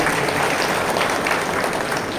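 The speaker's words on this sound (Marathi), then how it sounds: "त्यांचे आपण टाळ्या वाजवून स्वागत करूया." Steady, dense applause from an audience welcoming a guest at a Navi Mumbai Court Bar Association training camp for notary advocates, filling the full two seconds at an even, loud level.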